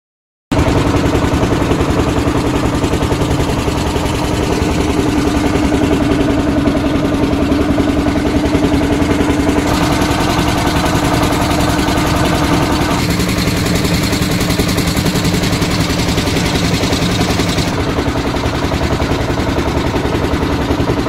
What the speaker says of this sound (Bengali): মাছ ধরার একটা নৌকা মাছ ধরে চলে আসছে।